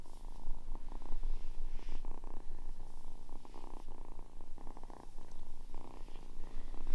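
A cat purrs up close in a low, continuous rhythmic rumble, steady and unbroken, with no voices.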